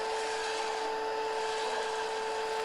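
A sanding disc on a drive head smoothing a rough wooden face, a steady close whirring hum with a constant tonal whine and grainy abrasive hiss, continuous and alone throughout.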